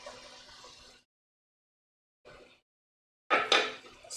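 Water poured into a cooking pot, a splashing pour in three bursts separated by silence, the last one loudest and closest.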